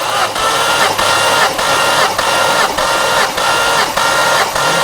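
A car engine cranks steadily on the starter during a compression test, a loud rhythmic whirring chug that pulses about twice a second, close by and with no talking.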